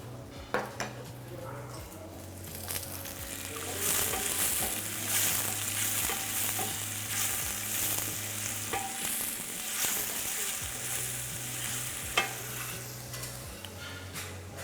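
Garlic frying in a pan for a Greek dish, a close, steady sizzle with scraping stirs and light clinks of utensil against the pan, accompanied by a low intermittent hum.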